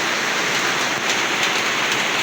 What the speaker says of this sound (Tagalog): lumakas yung ulan